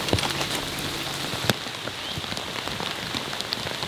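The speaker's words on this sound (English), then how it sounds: "this is right around where it really starts to rain" Heavy rain pours down on a golf course during a round, a constant hiss of drops with scattered sharper splats, one louder hit near the middle, and no talk.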